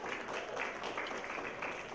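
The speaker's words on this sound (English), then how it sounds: "You can clap at any time." Audience applause at a charity gala honoring sponsors, steady dense clapping from a large room, moderately loud and continuous without talk.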